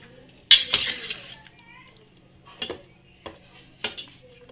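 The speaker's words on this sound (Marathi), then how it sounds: "आता ही आपण चमच्याने मॅश करून घेऊ." A metal spoon clinks and scrapes against a steel pot while mashing pressure-cooked vegetables, beetroot among them, for pav bhaji: a few sharp knocks spaced a second or so apart with quiet scraping between, close by, with a faint background hum.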